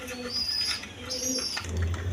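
Pigeons at a farm, including Danish and Kagoji breeds, give soft repeated coos close by, low murmuring calls over a constant low background hum.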